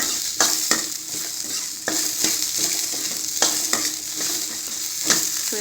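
Onions sauté in a pan with curry leaves, a close, steady sizzle punctuated by a series of sharp spatula scrapes and taps as they are stirred.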